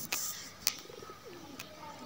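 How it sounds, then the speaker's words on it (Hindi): A pigeon coos softly a few times in the middle distance in a village, low gentle calls with a couple of sharp clicks and flutters around them as it hides in a small nook. "ये कबूतर उड़कर अपने जगह पर छुप रहा है।"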